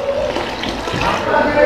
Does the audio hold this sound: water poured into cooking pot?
yes